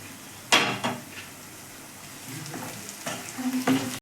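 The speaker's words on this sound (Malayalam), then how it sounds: "നമുക്കിത് നന്നായി ഇളക്കി കൊടുക്കാം" Beef macaroni ingredients stirred in a hot pan, giving a few soft scraping strokes and light clinks over a steady low sizzle, with no talking.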